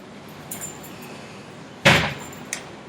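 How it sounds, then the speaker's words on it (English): A gym door outside a hotel swings shut with a single sharp thump, followed by a brief rattle. Faint clicks come before it, and quiet room tone fills the rest. "this guy has to close the door"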